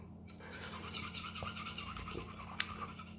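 A knife is sharpened on a sharpening stone, with steady gritty rasping strokes repeating close by for a few seconds. No one speaks.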